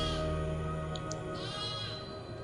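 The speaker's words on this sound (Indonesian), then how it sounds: "Di mana ini suaranya kambingnya?" Goats bleating near a campus, a drawn-out wavering cry over a steady background hum.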